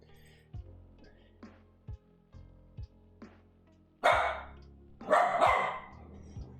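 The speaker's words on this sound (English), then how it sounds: "What are you barking at?" Indoor dog barking in short single woofs spaced about a second apart, then two louder, harsher bursts near the end, close by.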